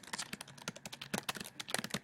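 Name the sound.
typing on a computer keyboard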